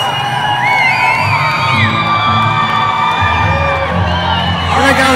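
An MMA event crowd yells, whoops and cheers loudly and continuously, with many overlapping voices filling a large hall.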